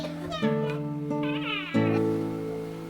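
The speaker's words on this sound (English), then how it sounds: "This is my kitty, Alex." A pet cat meows repeatedly indoors, loud and close, with several drawn-out, wavering meows following one another over a few seconds and no talk.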